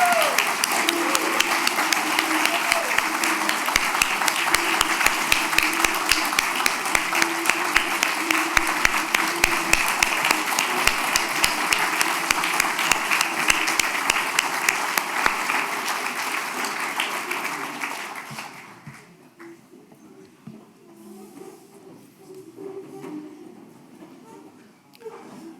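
Audience at a prayer breakfast applauding, sustained dense clapping for about eighteen seconds that then fades out into quieter room noise.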